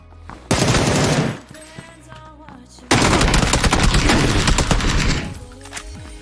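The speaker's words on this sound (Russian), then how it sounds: "чел стреляет" Automatic gunfire in the battle game PUBG comes as two loud, rapid bursts separated by a quieter pause with scattered distant shots.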